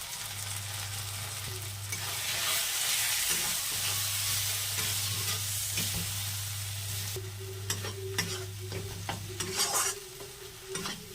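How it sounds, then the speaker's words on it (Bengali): Spice paste of cumin with ground coriander, chili and turmeric fries in a pan. It is stirred throughout with a close, continuous sizzle, occasional scraping and a low steady hum beneath. "মশলাটা ভালোভাবে কষিয়ে নিয়েছি।"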